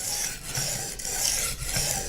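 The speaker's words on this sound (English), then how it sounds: "we're going to want to go to the finer side of this whetstone" A kitchen knife scrapes back and forth across the fine side of a whetstone, a close, steady rasping stroke repeated several times with no talk.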